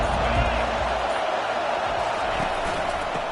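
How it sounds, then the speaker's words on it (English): Simulated stadium crowd noise in a football video game, a dense continuous roar of many voices holding steady throughout. "This crowd bringing the energy and noise early."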